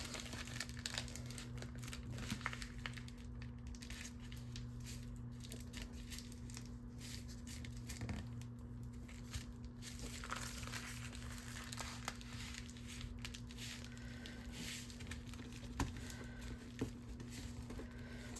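Scrappy patchwork paper being folded and crinkled into an envelope, with soft continuous crackling and rustling close up, steady over a constant low electrical hum, with no talking.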